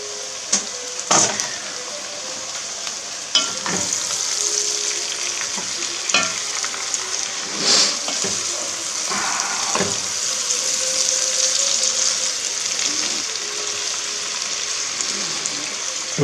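Chicken for a Corsican-style dish sizzles and fries in a pan, a steady close crackle broken by scraping clatters as it is stirred, with no talking.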